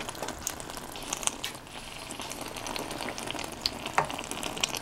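Spicy homemade pasta sauce bubbling and sizzling in a pan on the stove, a steady close crackle with scattered small pops and faint clinks throughout.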